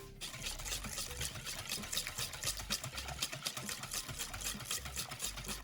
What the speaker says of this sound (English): I'm going to add 2 tablespoons of caster sugar and whisk this.